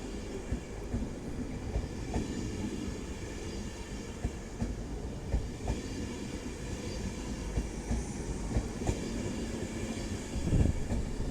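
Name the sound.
train passing at Doncaster station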